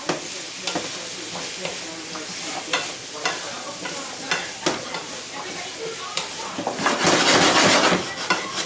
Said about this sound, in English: they're starting to sizzle, starting to hear it go